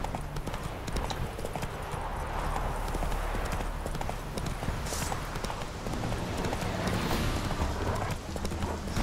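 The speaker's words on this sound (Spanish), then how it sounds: "Bueno, caballo, ven aquí." Horse hooves gallop across ground in The Witcher 3: Wild Hunt, a rapid, continuous clip-clop rhythm with someone speaking faintly over the steady pounding.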